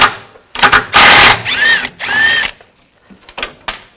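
A power tool with a 13mm socket spins a control arm bolt out of a 2000-2006 Chevy Tahoe in several loud close bursts, some revving up and down in pitch, separated by short pauses.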